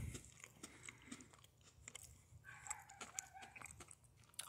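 Halloween Oreo cookies are bitten and crunched in a quiet string of crisp, uneven crackles and snaps, heard close but faint.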